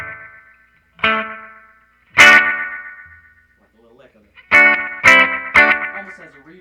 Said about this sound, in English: it almost sounds like an awkward echo down a tube because now the timing of the space we had between each one of the echoes is so small